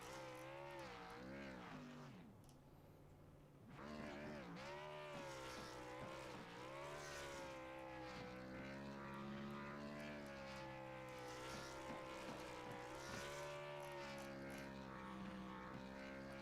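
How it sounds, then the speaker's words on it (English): A NASCAR Xfinity Series stock car does a burnout at Kentucky Speedway, its engine holding a loud, sustained, rising-and-falling revving drone that briefly drops away before roaring on steadily. "He is really burning her down."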